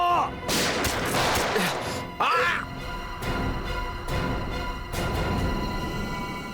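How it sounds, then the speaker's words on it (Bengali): Loud gunfire rings out in a TV crime drama scene, with several sharp, close shots and bursts spread across a few seconds over a busy background of dramatic sound and commotion. "সিআইডি অফিসারকে গুলি করে দিলি?"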